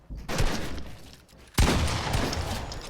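Gunfire in Fortnite, two bursts of rapid shots, the second sharper and louder, each trailing into a rattling decay.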